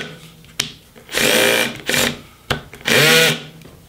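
A Festool TXS 10.8V cordless screwdriver whirs in two sustained bursts of about a second each. Each burst is preceded by short clicks, and the motor sounds strained under load as it struggles to drive.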